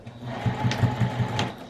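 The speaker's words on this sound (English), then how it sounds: "Take it over to my sewing machine and then just run a quick stitch around that." A sewing machine runs a quick stitch around a small fabric project bag, its motor humming steadily with a regular pulse of needle strokes, close and alone without talk.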